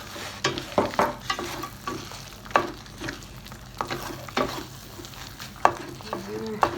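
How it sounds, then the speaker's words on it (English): Spoon stirring dry raisins and roasted nuts into semolina halwa (sooji halwa) frying in a pan, with repeated scraping strokes over a steady soft sizzle, close and alone without talk. "Then we'll add the dry raisin. And at the same time, we will add the roasted nuts."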